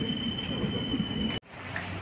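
Silambu Express passenger train running between Chennai and Srivilliputhur, a steady close rolling rumble with a sustained high whine, briefly cut by a sharp dip before the continuous running noise resumes.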